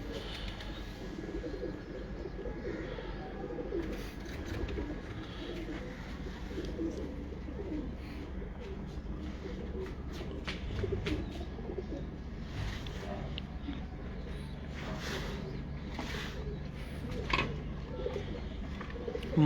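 Pigeons coo softly in a breeding loft, low repeated cooing over a steady background hum, with faint chirps scattered throughout and no speech.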